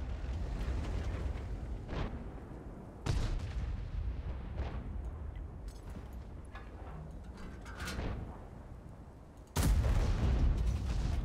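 Heavy booming blasts of a tank cannon firing in World of Tanks, each a sharp loud crack over a continuous low rumble, with a few shots spread across the stretch.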